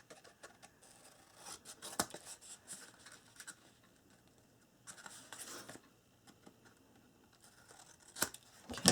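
Scissors cut paper at an angle while an accordion album with Authentique Poised paper is being made, giving quiet, close snips and slices in short uneven bursts with pauses between them.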